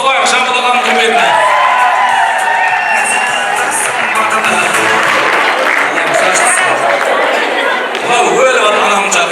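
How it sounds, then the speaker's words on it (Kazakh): Guests at a Kazakh wedding party applaud in honour of Zhambyl, sustained loud clapping with cheers, whoops and crowd chatter filling the hall throughout. "Жамбыл үшін келгенде бір шапалақ соғайық, Жамбыл ағаның құрметіне"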